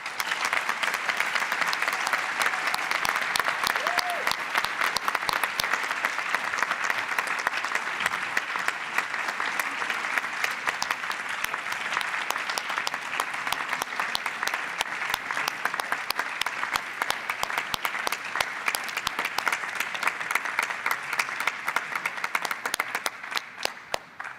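An audience applauds at a national debate championship, dense and sustained clapping from a large crowd that holds steady throughout.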